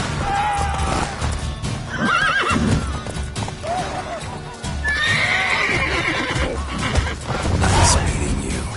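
A horse in the video game The Witcher 3 whinnies repeatedly, with clip-clopping hooves, clattering game action and scattered voices around it.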